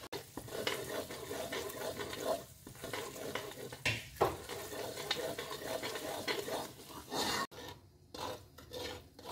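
Semolina roasts in ghee in a pan for desi pinni, a gritty rasping stir scraping back and forth over a low sizzle, with brief pauses and no voices.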